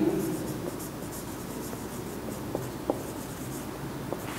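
Faint, steady scratching of a sentence being written on a board during an English grammar lesson, with a few light taps and ticks along the way. It sounds close and quiet against a soft room hum.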